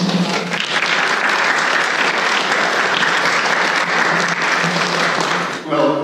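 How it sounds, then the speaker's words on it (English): Concert audience applauding a composer, with dense, loud, sustained clapping filling the hall and a voice beginning to speak just as it ends. "You really shouldn't applaud until you've heard the music"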